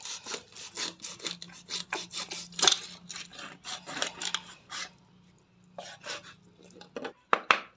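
A knife cuts a murrel fish into pieces on a board, giving quiet, rhythmic sawing strokes that repeat steadily, with a brief pause before a few final cuts.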